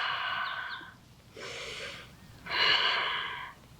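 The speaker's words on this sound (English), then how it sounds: "Breathe deeply here." Slow, deep breathing during a yoga session while bending into the knees, three drawn-out airy, slightly wheezy breaths close to the microphone, the last one the loudest, with no talk over them.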